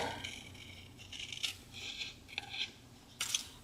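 Scissors snip paper for a pocket on a Little Golden Book kitten journal page, giving several short, crisp cutting strokes at close range with quiet pauses between them.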